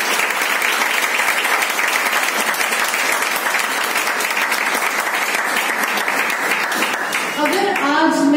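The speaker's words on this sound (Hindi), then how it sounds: "तो ताली आपके लिए होनी चाहिए।" Sustained audience applause fills a seminar hall, dense and steady throughout with a slight lift near the end as a voice or tone emerges over it.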